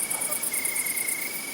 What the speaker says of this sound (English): the crickets begin to sing.